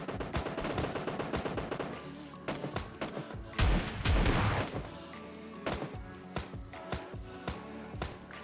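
Gunfire from bots and players in the mobile shooter PUBG Mobile Lite, with rapid bursts of shots and heavy booming impacts that continue steadily throughout, loud and close with no talking.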